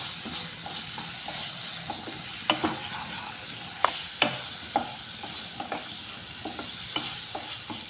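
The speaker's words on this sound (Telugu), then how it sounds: "లివర్ ఫ్రై అయితే అయిపోయిందండి." Chicken liver frying in a pan with masala and coriander, a steady sizzle broken by repeated sharp clinks and scrapes as it is stirred, close up with no voices.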